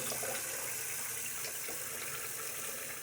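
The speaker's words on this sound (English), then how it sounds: "Rinse out the razor." Steady running water from a tap rinsing a Timeless 68 open-comb safety razor, a constant close hiss and splash with no breaks.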